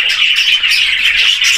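A short burst of pigeon calling, soft cooing and squawky chirps close by, continuous for about a second and a half.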